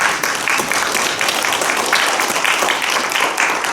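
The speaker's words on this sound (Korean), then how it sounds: "박수 한번 부탁드리겠습니다." A lecture audience claps for the Ongjin cultural center director, a brisk, even burst of applause from the room lasting the whole few seconds.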